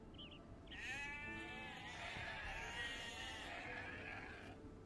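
Sheep bleats in a strategy video game where villagers gather food from sheep: a quiet, wavering bleat heard alone over a low, steady game soundscape.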